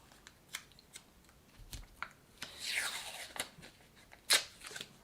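A piece of tape is torn off and pressed down during guitar restringing, heard as a close, quiet series of taps and handling noises, then a ripping stretch and a sharp crackly tear.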